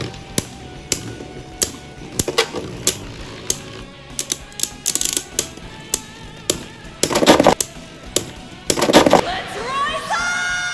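Beyblade Burst tops launched into a stadium and clashing, with sharp repeated clacks and rattling metallic hits scattered irregularly, some bursts of rapid collisions, under occasional voices.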